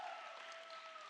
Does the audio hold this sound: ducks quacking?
no